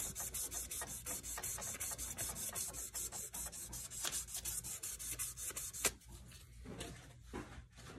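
Sandpaper is rubbed back and forth across a turned wooden bolt-action pen on a lathe, giving quick, steady scratchy strokes at close range. The sound is faint, with a brief break near the end.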